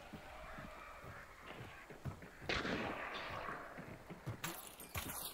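Gunfire in the video game Hunt: Showdown, one distant muffled shot booming through a rumbling, busy game ambience with other faint clatter, no talk.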